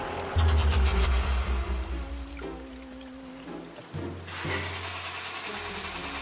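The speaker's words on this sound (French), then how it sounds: "Pierre essaie de redémarrer la voiture sans succès." An old taxi engine fails to restart, with a rapid mechanical cranking and whirring that sputters and stops, then a second grinding attempt that also dies, with no talking.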